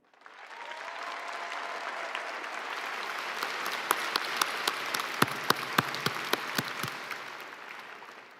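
An audience at a university fall graduation ceremony bursts into steady, full applause that holds for several seconds, with a few louder nearby claps standing out sharply over the dense wash of hands.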